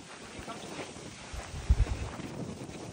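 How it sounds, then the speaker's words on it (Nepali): Strong wind on an outdoor hiking trail rushes steadily against the microphone as a broad, constant roar, with a brief louder buffet near the middle. "यो बाटो यस्तो छ एकदम हावा चलिरहेछ"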